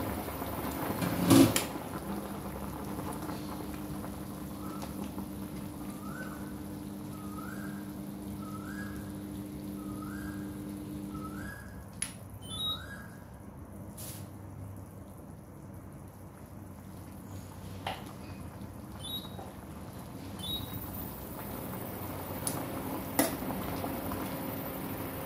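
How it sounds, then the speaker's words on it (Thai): A pot of chicken soup with pickled mustard greens simmers under a lid, giving a steady, soft bubbling that continues throughout, with a few faint clinks and small kitchen sounds. "เดือดแล้ว"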